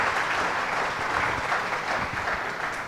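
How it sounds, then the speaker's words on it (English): An audience at a book discussion on India and China breaks into a steady round of applause, dense clapping that fills the room and tapers slightly toward the end. "So, a big round of applause."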